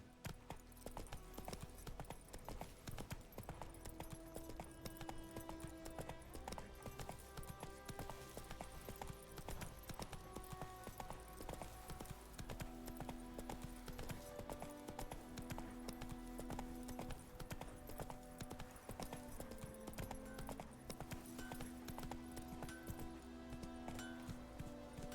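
The horse Roach in The Witcher 3 gallops with rapid, rhythmic hoofbeats that keep pounding throughout, under game music and a faint clink of tack.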